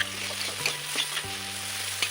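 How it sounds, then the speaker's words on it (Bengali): Onion and torn green chillies frying in a little oil in a wok, a strong, close sizzle with scraping stirs and a few clicks of a spatula, no talking. "দিয়ে দিলাম কড়াইতে ভাজার জন্য"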